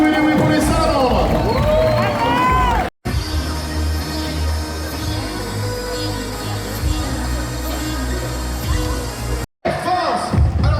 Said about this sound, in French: On applaudit bien fort les Salamandres les amis